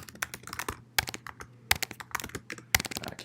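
Rapid, uneven bursts of keystrokes on a computer keyboard, close and fairly loud, with a few sharper louder key hits among the clatter and no voices.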